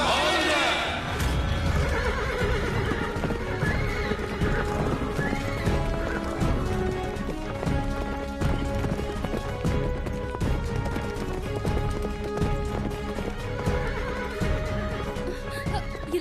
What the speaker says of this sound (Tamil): இந்த குதிரை முன்னோக்கி செல்கிறது.